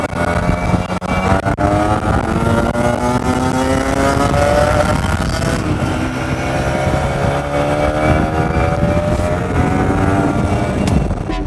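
A freshly restored Kawasaki Ninja 150RR motorcycle engine revs and pulls steadily while riding, the pitch climbing through gears, loud and close throughout.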